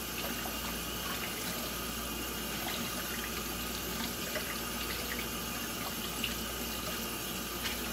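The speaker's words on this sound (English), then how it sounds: "Now normally I don't let the water run" Water runs steadily from a kitchen tap while dishes are washed, a constant rushing flow with faint clinks, continuous and close throughout with no talking.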